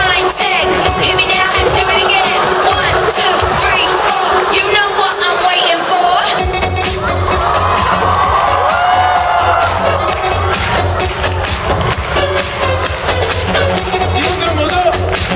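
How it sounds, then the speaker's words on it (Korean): A loud crowd at a Korean lecture event greets a guest speaker with cheering, whoops and clapping, continuous and boisterous throughout, with shouted voices mixed into the din. "큰 박수 한번"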